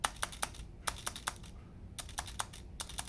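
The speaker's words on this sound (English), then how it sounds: "This is demo Spacebar sound between K800 and Logitech Craft" A Logitech K800 keyboard is tapped repeatedly on its spacebar, giving a quick run of sharp plastic clicks in uneven small bursts, close and fairly quiet, with no voices.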